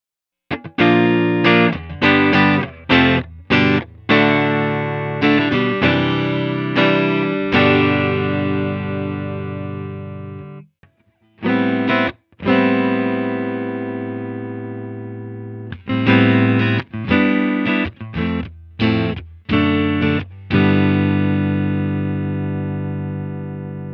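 Electric guitar chords and single notes ring out with a warm, slightly driven tone through a Strymon Iridium modelling a Deluxe Reverb amp's normal channel, played in phrases separated by brief pauses, with no voices.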